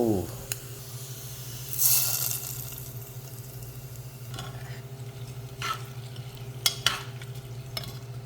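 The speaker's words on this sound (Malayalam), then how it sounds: "അതിൽക്ക് തേങ്ങാക്കൊത്ത് വറുത്തിട്ടാൽ നല്ല രസാട്ടോ" Coconut pieces frying in a pan for upma, a soft sizzle under faint clatters and scraping as they are stirred, with a few sharper clicks of a spoon against the pan.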